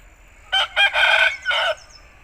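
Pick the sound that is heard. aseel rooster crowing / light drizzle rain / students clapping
aseel rooster crowing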